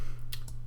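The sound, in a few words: scissors of a multi-tool being opened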